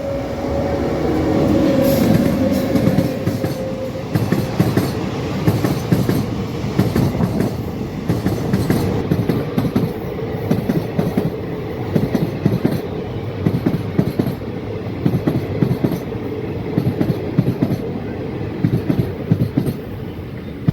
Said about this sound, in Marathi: आपली ट्रेन आता पूर्णा जंक्शनवर पोहोचणार आहे